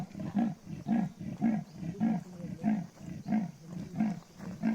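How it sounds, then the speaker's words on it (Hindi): A wild leopard near a resort in Rajaji National Park gives a rhythmic sawing call, about ten deep rasping grunts in an even pulse, carrying clearly through the forest with no voices over it. "पीछे भालू की गुफा थी और यहाँ पे लेपर्ड बोल रहा है।"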